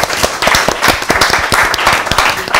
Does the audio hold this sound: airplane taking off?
no